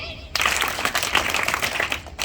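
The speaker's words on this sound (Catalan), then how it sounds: "Triple aplaudiment!" An audience at a fifth-grade school play breaks into a round of applause after a sudden start. The clapping is bright and uneven, with a few voices mixed in.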